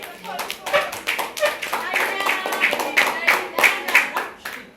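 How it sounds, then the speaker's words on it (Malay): Pupils in a Malay-language classroom clap their hands together in a lively, uneven rhythm at close range, with children's voices mixed in among the claps. "Okey, tepuk tangan untuk baris."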